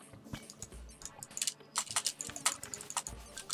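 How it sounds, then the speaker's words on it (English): Loud computer keyboard typing at a desk during Terraria gameplay, a quick irregular run of sharp clicky keystrokes, close to the mic and heard alone. "This is my keyboard so loud when I push buttons."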